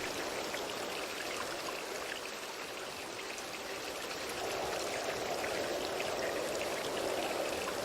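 Water flowing steadily in a game stream from the fantasy adventure L'Œil noir: Les Chaînes de Satinav, a continuous broadband rush and trickle with no talk, swelling slightly louder partway through.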